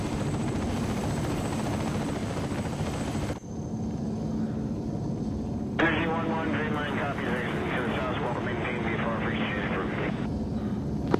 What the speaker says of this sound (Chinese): 这是直升机